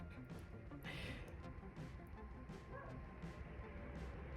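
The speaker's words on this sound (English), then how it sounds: "I don't know if you can hear my neighbor's dog." A neighbor's dog barks and howls at a distance, faint bursts and a drawn-out wail sitting low under steady indoor background noise.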